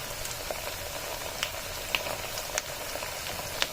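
Potatoes fry in the oil left over from frying bata fish, making a moderate, even hiss dotted with scattered small pops and crackles.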